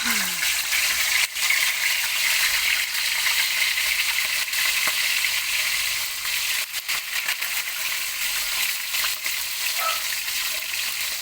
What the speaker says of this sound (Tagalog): prito na natin itong ating salmon. Matalsik yan.